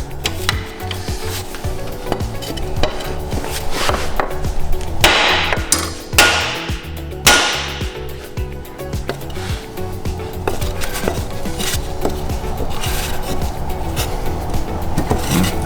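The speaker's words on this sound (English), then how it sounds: "hammer and some wood. Try with a little tiny hammer here." Repeated hammer taps on wood, irregular and sometimes in quick bursts, mixed with scraping and knocking of metal parts close by, during head gasket removal on a Dodge Neon engine.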